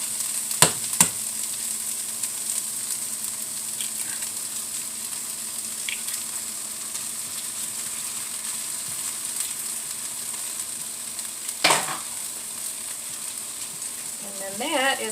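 An egg frying in a pan gives a steady, moderately close sizzle with a few sharp clicks of a utensil against the pan, and no voices.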